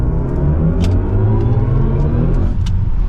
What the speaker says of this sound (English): And now switching back to sport mode, we can give it another acceleration.